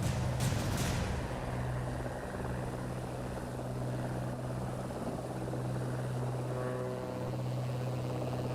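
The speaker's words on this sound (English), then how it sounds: "Crawdad is in an MH-60 right back there. You can just hear it coming up" An MH-60 helicopter drones steadily through the whole stretch, a continuous low rotor and engine hum that stays fairly even in level, coming up from behind at moderate distance with no talk over it.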